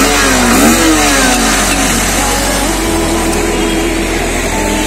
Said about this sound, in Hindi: तो गाइस अभी आपको गाड़ी का साउंड बता देता हूँ